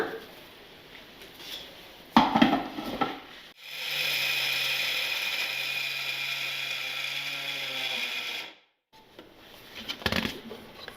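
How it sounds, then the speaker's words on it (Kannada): A mixer grinder whirs steadily for about five seconds, grinding jaggery powder and ghee for calcium laddu, with a low motor hum beneath a bright grinding rush. Quieter kitchen handling sounds come before and after. "ಈಗ ಇದಿಷ್ಟನ್ನು ಗ್ರೈಂಡ್ ಮಾಡ್ಕೊಳ್ಳೋಣ."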